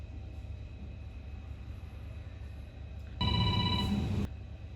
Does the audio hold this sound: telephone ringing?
yes